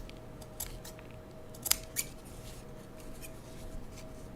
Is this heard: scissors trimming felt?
yes